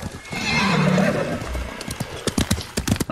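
A horse in the Ghost of Tsushima video game gives a loud whinny near the start, followed by a run of crisp, close hoof clip-clops.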